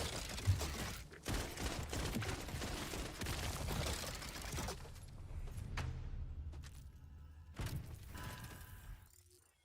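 A submachine gun fires in a video game: rapid bursts of shots and mechanical clatter for several seconds, then a few sharper isolated bangs as the action quiets, fairly faint overall.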